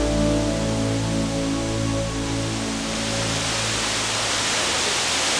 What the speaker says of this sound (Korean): 산에서 내려온 물줄기들이 수직 절벽을 만나면서 곧장 낙하를 시작합니다